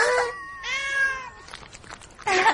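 A cartoon cat gives a few clear, harmonic meows, loud and close, with short pauses between them and no talk over the calls.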